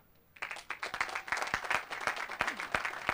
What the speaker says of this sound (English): Please give our governor another round of applause, please.